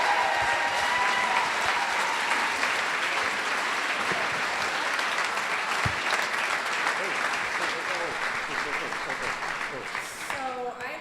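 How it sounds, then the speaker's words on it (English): Sustained audience clapping at an employee recognition event fills the room, loud and continuous, with a few voices and cheers under it and a brief spoken voice near the end. "You clap it up a lot, so get those clapping hands ready."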